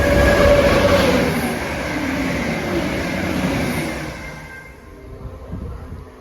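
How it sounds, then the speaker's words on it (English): A Chiltern Railways class 165 Thames Turbo diesel multiple unit pulls into a station, its loud rumble and rail noise close by, with a brief squeal early on, then the sound easing and settling as the train slows. "Here's my train then. Another Thames Turbo."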